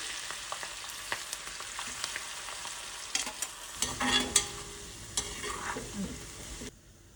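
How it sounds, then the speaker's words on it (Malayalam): Green chilies fry in hot oil in the same pan used for ginger, giving a steady close sizzle with scattered stirring scrapes and pops that thins out and stops near the end. "ഇനി നമ്മൾ അതേ ഇതിനകത്തേക്ക് തന്നെ പച്ചമുളക്, ഇഞ്ചിക്ക് കുറച്ച് സമയം എടുക്കും"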